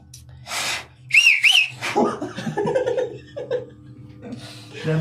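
Two short rising whistles blown with the mouth sound up close, followed by laughter and breathy chuckling, with a few more faint whistling attempts later.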